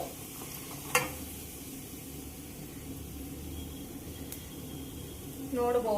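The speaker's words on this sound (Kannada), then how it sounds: "ಎಣ್ಣೆ ಕಾದೈತಿ. ಈಗ ಹಪ್ಪಳ ಹಾಕ್ತೇನು" Papad frying in hot oil, a steady soft sizzle and crackle throughout, with a brief clatter near the start and a louder bubbling burst at the end.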